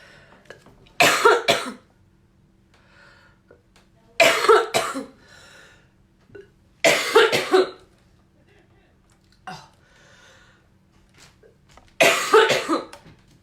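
A woman coughs in four separate fits, each a loud cluster of harsh coughs spaced a few seconds apart, with quiet stretches and faint murmuring in between.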